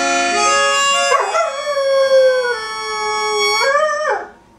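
A dog howls in a long, sustained, wavering tone that rises and falls like singing, loud and close, with no other sounds around it.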